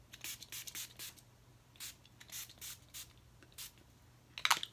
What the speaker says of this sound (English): set my face with